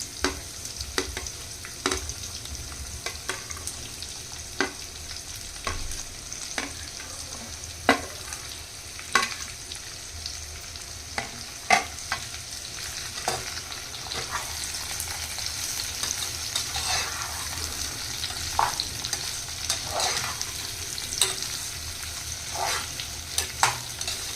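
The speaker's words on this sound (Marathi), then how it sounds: "दहा मिनिटं आपण होऊ देऊ कैरी तेलामध्ये फ्राय" Chopped raw green mango with garlic fries in hot oil, a steady close sizzle broken by frequent sharp pops and spatters, with occasional stirring and no voices.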